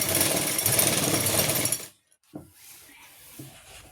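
A sewing machine runs steadily, stitching an elastic waistband onto palazzo pants. The loud, dense whirring lasts almost two seconds and stops abruptly, followed by a few soft handling knocks in a quiet room.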